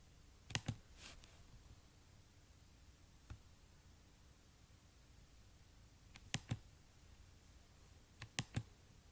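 Several sharp computer mouse clicks come in small pairs and singles, spread across a quiet office background while navigating a health-clinic records system, with no talking.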